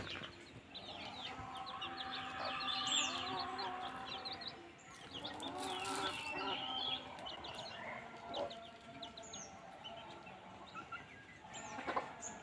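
Multicolored rooster and hens roaming free in wet green Konkan countryside at Guhagar, Ratnagiri, give soft intermittent clucks and chirps at moderate distance, steady and unhurried.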